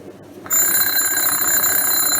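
An electric alarm bell, set in place for a bell jar demonstration, bursts into loud, continuous metallic ringing after a brief quiet moment and keeps ringing steadily to the end.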